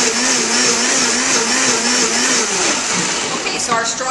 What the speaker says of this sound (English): so our strawberries are pureed.